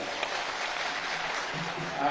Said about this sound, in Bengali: স্যারের জন্য আমি চাচ্ছি সবাই আপনারা একটা জোরে একটা হাত তালি